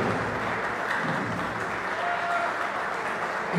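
Audience clapping at a Pan-American billiards championship final: a steady, even roar of many hands throughout, with no pauses or break in intensity.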